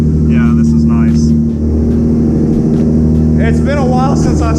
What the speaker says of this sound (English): It's been a while since I started the car, and I wasn't expecting it to be that loud.